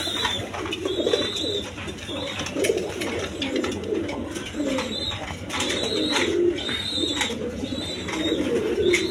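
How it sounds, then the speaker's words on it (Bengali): Pigeons coo repeatedly and close by, deep rolling throaty calls returning every second or two over a constant hiss of background noise, with no voices. "একদম ফ্রেশ কবুতর আছে"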